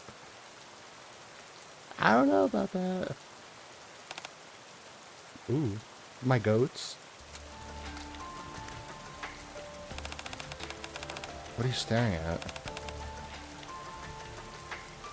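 A steady patter of rain falls in the video game NIKKE, a soft continuous hiss running under intermittent character voices and brief chimes of game dialogue.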